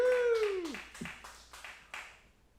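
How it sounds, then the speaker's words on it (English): A whooping cheer, then a handful of hand claps at a live show at The B Side, spaced fairly evenly and growing fainter, with a quiet room behind. "Give a round of applause, a very warm welcome for Mr. Shelton Inlow."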